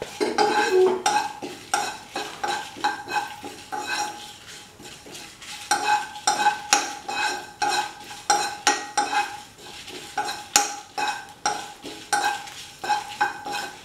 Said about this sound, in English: Heat the pan and put in the spices, chili, cumin seeds,